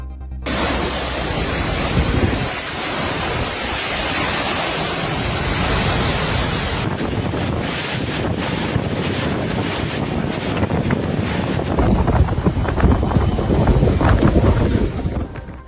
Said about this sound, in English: strong winds toppled trees and sent water tanks flying through the air